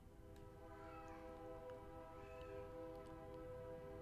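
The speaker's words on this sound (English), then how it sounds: "I don't know if you guys can hear the train in the background" A train passes in the background amid steady city noise, a continuous low rumble with sustained tonal hum and a few faint higher squeals over the whole stretch, no talking.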